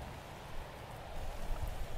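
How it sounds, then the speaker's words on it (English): Acid rain falling in a Roblox video game, a steady broadband wash of rainfall with a low rumble underneath, moderately loud and continuous for the whole stretch. "Now, this acidic rain that we're experiencing..."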